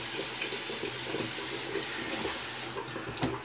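A tap runs steadily to rinse a shaving brush and razor gear at a sink, close water rushing that breaks off near the end with a brief clatter.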